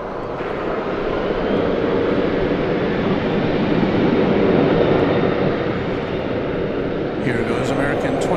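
An American Airlines Boeing 737-800 jet at Dallas Fort Worth airport sends out a steady engine roar that swells slightly mid-clip. A voice briefly speaks near the end.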